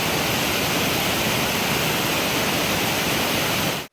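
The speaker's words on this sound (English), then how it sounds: "This river's a monster." A rushing mountain river in Iceland roars as a steady, dense wash of broadband water noise, loud and close, with no voices, cutting off abruptly at the end.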